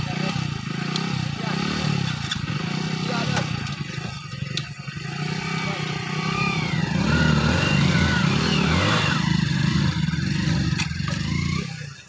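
Two Hero Splendor motorcycles, one a BS6 model, rev hard in a tug of war, a steady rough engine drone that swells in the middle. People shout and talk over it throughout.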